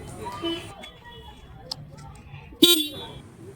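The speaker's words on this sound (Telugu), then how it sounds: "హారన్ సౌండ్ ఇలా అయితే ఉంటుంది." Horn of a black Yamaha FZ V3 motorcycle giving one short, loud, close toot near the end, after quieter idle background noise.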